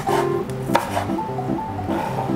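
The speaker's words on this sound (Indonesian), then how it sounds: "kita iris serong" A knife cuts diagonally through spring onion stalks on a cutting board, giving several quick, crisp chops in an even rhythm, close and clear over a faint steady background hum.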